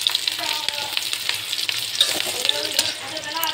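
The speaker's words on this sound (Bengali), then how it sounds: "টমেটো দেওয়া হয়ে গেল, টমেটোটাও ভাজা ভাজা হচ্ছে হালকা।" Onion and tomato fry in oil in a pan as the base for a fish curry, a steady close sizzle with scraping stir strokes throughout, no talk.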